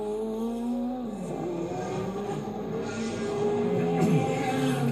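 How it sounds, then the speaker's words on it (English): A Peugeot Group C race car wails past on track at a Goodwood members' meeting, its loud engine note rising and sweeping in pitch as it nears and goes by. "there goes that wailing Peugeot from the Mahe stable"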